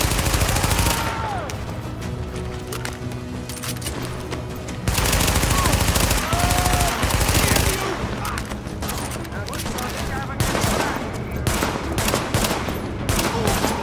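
Gunfire from Tom Clancy's The Division, with loud bursts of automatic weapon fire rattling almost continuously across the scene, punctuated by heavier volleys and brief in-game alert tones.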